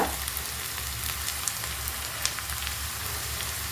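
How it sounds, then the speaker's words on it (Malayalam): Chopped ginger and curry leaves fry in ghee with a steady close crackling sizzle and a few sharp pops, with no voices. "കുറച്ച് നെയ്യും കൂടി ആഡ് ചെയ്യാച്ച ഇനി ഇതിലേക്ക് ഒരു രണ്ട് കഷ്ണം ഇഞ്ചി ചെറുതായി അരിഞ്ഞത് അതുപോലെ തന്നെ കറിവേപ്പില"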